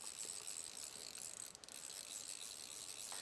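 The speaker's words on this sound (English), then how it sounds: "now we'll wind this back up on the reel" A fly fishing reel winding fly line back onto the spool gives a steady, close whirring ratchet-like hum that runs continuously for a few seconds, with no talking.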